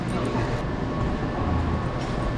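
A Washington DC subway train arrives at the station, a continuous loud rumbling roar of wheels and motors filling the platform, with voices faintly mixed in.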